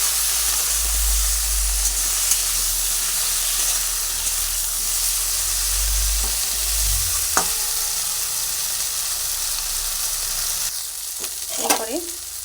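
Okra dusted with turmeric frying in a pan gives a steady, loud sizzle and hiss, with a few scrapes and clinks of stirring near the end.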